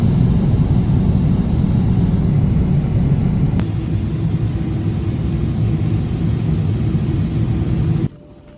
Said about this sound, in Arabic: والله حاليا في الطائرة، شكل الطائرة فل